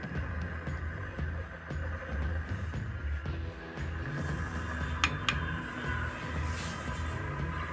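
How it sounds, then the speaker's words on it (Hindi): Water heating in a Vista electric kettle as it starts to boil: a steady low rumbling hum with faint ticking and a couple of brief higher clicks, continuous and fairly quiet throughout. "आप देख सकते हैं पानी का गुनगुन आवाज़ एक सुनाई दे रहा है।"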